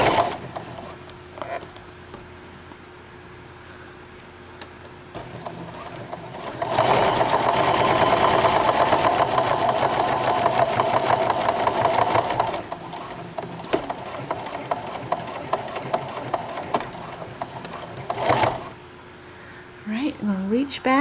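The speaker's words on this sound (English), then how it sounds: "we'll sew this seam down through" Sewing machine sewing a seam on a tote bag made from a placemat, a long loud burst of rapid steady stitching in the middle, with shorter runs and handling noise around it and a voice speaking at times.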